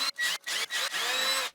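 A power drill boring holes up through a wooden church pulpit: four short close bursts of high whirring, the last held longest, with brief pauses between them.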